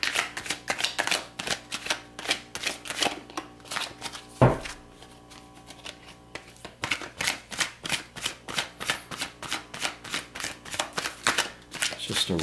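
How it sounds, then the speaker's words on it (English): A deck of tarot-style reading cards is shuffled by hand in a rapid, steady stream of crisp riffling slaps, close and continuous, with a brief pause and one sharp knock partway through. "Just a raw shuffle here, so you can just see the cards being moved around."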